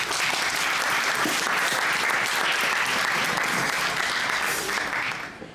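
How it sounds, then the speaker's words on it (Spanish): Audience at a poetry book presentation breaks into loud, steady applause, dense clapping from many hands that holds level before trailing off at the close. "Démosle un fuerte aplauso, por favor."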